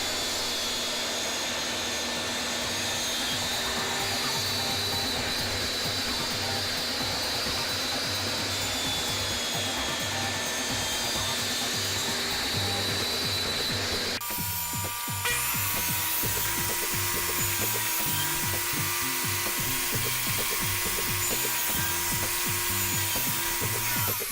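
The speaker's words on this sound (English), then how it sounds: "And then we'll run our board across the blade." A table saw whines steadily as a wooden board is fed across the blade for a serving tray, the tone shifting abruptly partway as the cut changes, continuous and moderately loud with no talking.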